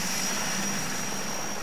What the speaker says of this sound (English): As the helicopters passed over